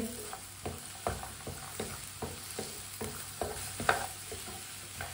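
A spoon stirs a frying pea and egg mixture in a pan, making soft, regular scraping strokes about twice a second over a faint sizzle, quiet and near.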